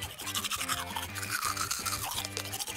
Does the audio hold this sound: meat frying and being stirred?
no